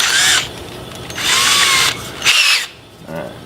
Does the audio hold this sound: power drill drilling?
yes